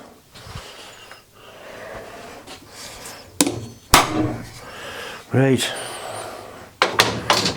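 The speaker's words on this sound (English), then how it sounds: "So we need to hit it a bit harder. So we'll simply use a bigger hammer." A bigger hammer strikes a copper pipe several times in a workshop, producing sharp metallic knocks with brief ringing, spaced apart over low background noise, with someone speaking briefly.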